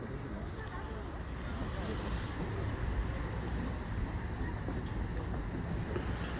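Sea waves heard outdoors along with rumbling wind buffeting the microphone, a continuous low wash and roar at moderate loudness throughout.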